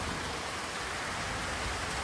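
Heavy first monsoon rain pours down on a Maharashtra village as a dense, even hiss that stays steady and loud throughout, with no voices.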